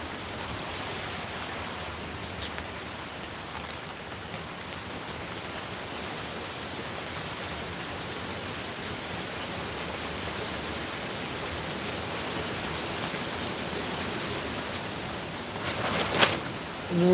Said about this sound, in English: It's not even raining that hard, it's just that wind.